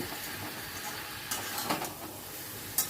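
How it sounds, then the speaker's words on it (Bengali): Spices and kasuri methi are stirred through a frying pan, with a steady soft sizzle underneath and a few brief scraping strokes and a light clink near the end, close and moderately quiet. "আবারও সব কিছু ভালো করে মিশিয়ে নিচ্ছি"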